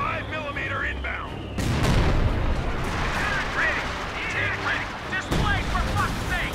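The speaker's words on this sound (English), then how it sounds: "105 millimeter inbound." 105 mm artillery fire in the video game Company of Heroes 2: heavy booming blasts, two loud onsets with rumbling tails, mixed with battlefield noise and brief game voice lines.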